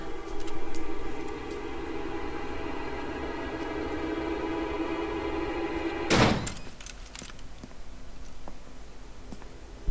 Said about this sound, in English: which makes him kick the door in through the back